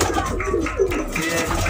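Pigeons cooing close by on a rooftop in Sialkot, soft repeated throaty calls layered over a dense, noisy background.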